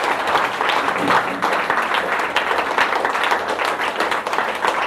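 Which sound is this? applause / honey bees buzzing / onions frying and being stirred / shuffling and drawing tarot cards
applause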